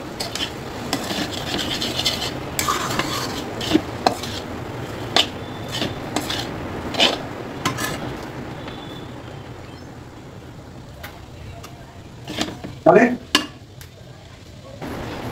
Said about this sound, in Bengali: খুব ভালোভাবে মিক্স করবো